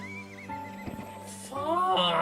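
Horse neighs and whinnies from a Wii horse video game, a drawn-out whinny rising and falling over steady game background tones, then brighter squealing neighs toward the end.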